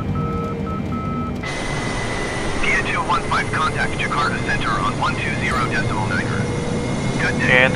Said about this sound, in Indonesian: Pesawat kita sudah take off.